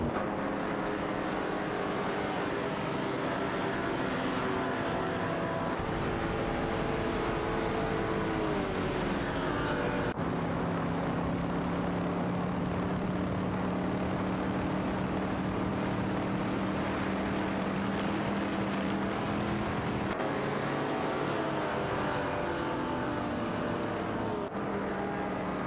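Racing car engines in a racing video game, a continuous loud drone of several cars with shifting engine pitches, gear changes and overlapping whines throughout.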